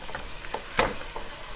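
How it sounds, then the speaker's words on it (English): Onions fry in a pan for a curry, a soft steady sizzle close by, broken by a few light scraping stirs, one sharper than the rest. "So you can see here that my onions have been cooking, they've been frying"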